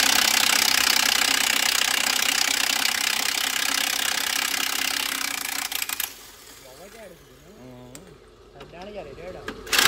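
A John Deere 5104 tractor engine runs loud and steady at close range, then drops off sharply, leaving quieter mechanical clanks while a voice speaks over the later part.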